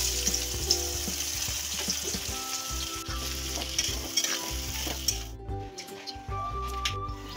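Onions for chicken biryani sizzle steadily in hot oil while being stirred in a pan, with a continuous close crackle, scraping stir strokes and a brief shift midway.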